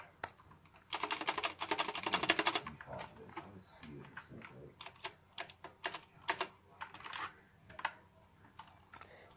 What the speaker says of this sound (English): Here's a sound test of it.